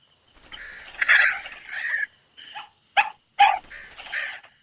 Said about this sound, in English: You got the dog here.